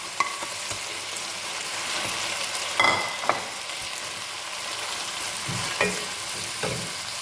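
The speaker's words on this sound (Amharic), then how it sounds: "ሽንኩርቱን አሁን እጨምረዋለሁ። አንድ ላይ ደግሞ ጥብስ አደርገዋለሁ ማለት ነው።" Chicken and onions fry together in a pan for a salona dejaj stew, with a steady crackling sizzle and a few scraping stirs of a utensil, close and continuous, with no talking.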